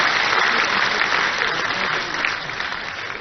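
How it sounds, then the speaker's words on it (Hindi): A crowd applauds warmly to welcome Chief Minister Dr. Mohan Yadav at a conference opening in Bhopal. The clapping is dense and steady throughout, close and loud, and eases off a little toward the end. "डॉक्टर मोहन यादव जी का जरा जोरदार तालियों के साथ में हम अभिनंदन और स्वागत"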